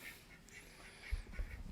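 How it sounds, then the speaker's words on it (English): Young ducks, about four or five weeks old, quack faintly in a chicken coop, a few soft repeated calls with some low thumps, distant and quiet. "The crazy water ducks drive me nuts."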